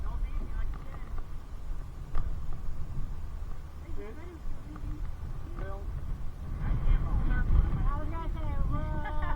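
Strong, vicious wind roars and buffets the microphone during a rowing session, a constant low rumble with gusts strengthening toward the end, while voices talk over it.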